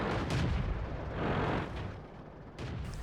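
Heavy 152 mm tank gun firing in World of Tanks, a loud booming blast with a rolling rumble, followed by a second duller report, with no voices.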